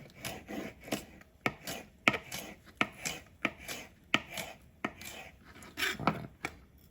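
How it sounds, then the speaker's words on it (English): An onion being sliced with a knife on a board, a series of crisp, close cutting thuds at an uneven, moderate pace, each with a short crunchy rasp, no talk. "Just take a little slice off of there, because I don't want to overdo it with the onion."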